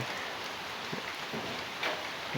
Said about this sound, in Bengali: কি বৃষ্টি নামলো রে